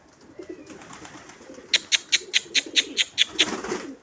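Pigeons being let out of a loft, with a run of about nine sharp, evenly spaced wing claps close by, over soft cooing and light background noise.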